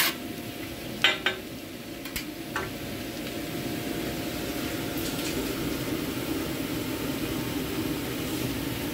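Vegetables stir-fried on a hot pan for Sri Lankan egg kottu roti, a soft steady sizzle throughout with a few sharp metallic clanks of a utensil against the pan early on.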